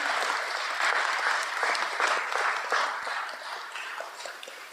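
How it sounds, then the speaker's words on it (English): Steady, full applause from an audience at a state supreme court appointment ceremony honoring a departing justice, continuous clapping that slowly fades toward the close. "So one more round of applause, please, for Justice Yu."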